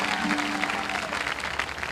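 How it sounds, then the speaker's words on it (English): An audience at the Minnesota State Fair breaks into steady, dense applause, a continuous crowd of clapping hands at moderate volume throughout. "let's give him another encouraging round of applause"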